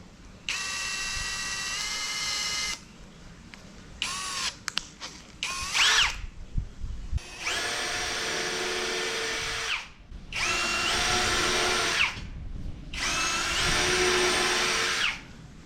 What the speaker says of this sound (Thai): เจาะไม้ใส่ดอกก่อนนี่